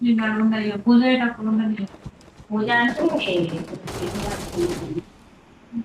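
Gunfire in a squad-based shooting video game: a brief, dense burst of shots near the end, following stretches of close, excited talk from players.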